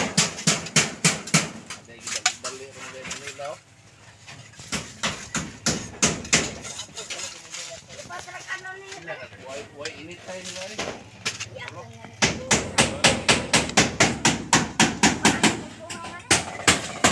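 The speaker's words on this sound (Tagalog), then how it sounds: "Martilyo dong." Hammer blows in rapid bursts of sharp, loud repeated strikes, pausing mid-way while people chat and then resuming in a fast regular series.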